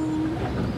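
A Kurobe Gorge Railway trolley train rolls forward along the track, producing a steady dense rumble and rattling wheel noise with a faint tonal whine, close and loud throughout.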